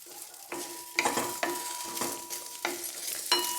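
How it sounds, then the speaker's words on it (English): Lady's finger (okra) sautéing in a little oil on medium flame, a steady soft sizzle broken by regular scraping stir strokes about every half second, close and clear without speech. "So keep this in medium flame and saute this in very little oil"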